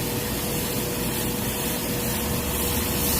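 A Harder & Steenbeck Infinity CR+ airbrush sprays paint close to paper, making a constant loud, dense airy hiss that holds steady without a break.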